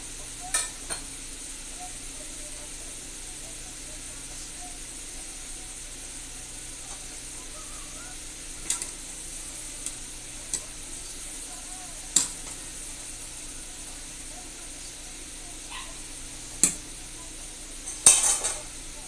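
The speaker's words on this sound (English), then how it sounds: "The sound of the fries going is overpowering the sound of the onions a little bit over here, but they're definitely sizzling away." Fries and onions sizzle together in a hot pan: a steady, close hiss with sharp utensil clinks and scrapes from stirring, louder toward the end.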